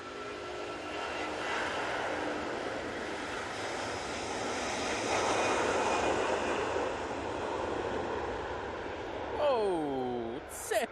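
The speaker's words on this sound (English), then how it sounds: "I'll get the Cathay touching down and I'll get the air tanker going up." A Cathay Pacific airliner touching down at Manchester Airport gives a broad, sustained jet roar that swells in the middle and eases toward the end, with a few short rising and falling tones near the close.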